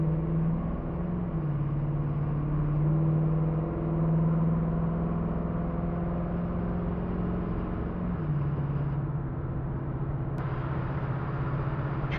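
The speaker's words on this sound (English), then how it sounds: "Run it up through the gears for you just a little bit." A 1985 Chevrolet K10 pickup truck accelerating through its gears, heard from inside the cab as a steady engine drone that rises in pitch, drops at each shift and climbs again, continuous and moderately loud with no talking.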